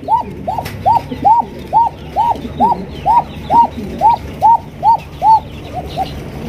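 Pigeons at a pigeon farm give a steady series of about a dozen close, loud rising-falling coos in an even rhythm, with a faint background hum.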